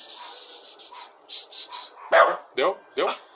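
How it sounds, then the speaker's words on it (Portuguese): Dogs barking outdoors, a few sharp barks in quick succession near the end, fairly close and loud, after a stretch of high rhythmic insect chirping like crickets in the background. "Eu ia falar dos cachorros, quando dá barulho lá fora"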